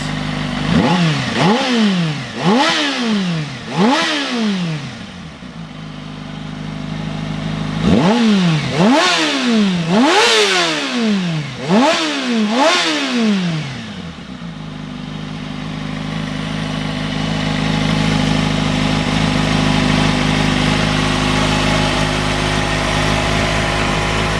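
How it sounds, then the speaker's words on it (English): A motorcycle engine with an Akrapovic exhaust, warmed to temperature, revs sharply in repeated bursts, each blip rising and falling, then settles into a loud, steady idle rumble. "So I'll just let you hear that exhaust."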